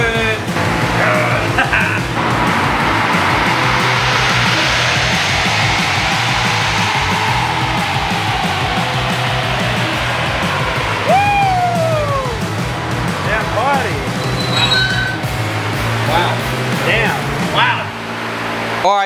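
A 2021 Ford Bronco with a 2.7L engine and JB4 tune roars through a dyno pull, a loud sustained rising engine sweep with whine, as people shout and cheer over it near the end.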